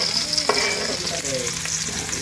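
Chicken adobo in coconut milk sizzles and fries steadily in a pan, with a few brief stirring scrapes over a continuous close hiss.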